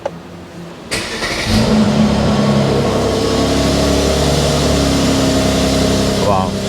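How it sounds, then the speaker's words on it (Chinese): A 2019 Mercedes-Benz C43 Estate starts with a sharp cranking catch, then its engine flares and settles into a loud, steady idle close by, with a voice briefly heard early. "我们来听听它 发动的声音，好不好？"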